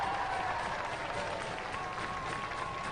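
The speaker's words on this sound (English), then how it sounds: "Give them a round of applause, ladies and gentlemen." Studio audience applause at Robot Wars, steady moderate clapping and crowd noise lasting a few seconds, heard from a distance.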